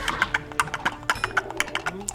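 Hollow clip-clop knocks beat in a steady trotting rhythm as a foley artist strikes coconut shells to mimic horse hooves, close and fairly loud over faint background noise.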